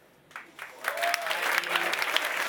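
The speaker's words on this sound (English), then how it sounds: "Come on, keep the applause going" Audience applause at a live Ignite talk event, building from scattered claps into steady, dense clapping from a large crowd, with a faint whistle and some voices mixed in.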